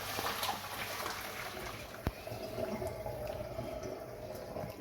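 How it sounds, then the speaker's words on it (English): Water poured off a pan of boiled Jersey Royal potatoes, making a steady, soft rushing splash that runs throughout with one small clunk partway through. No one speaks. "Drain all the water off."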